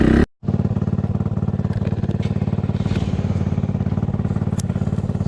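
A carbureted 450 four-stroke dirt bike idles nearby with a loud, even, rapid thumping beat that runs on steadily after a brief cut at the start.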